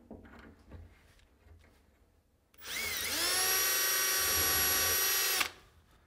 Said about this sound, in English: I'm going to drill 3/16 inch holes everywhere where I've marked it